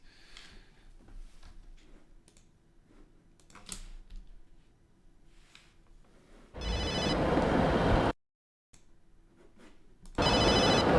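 A mobile phone from a 1998 Dutch television clip rings in two loud electronic bursts separated by a brief gap, after quieter clicks and handling sounds.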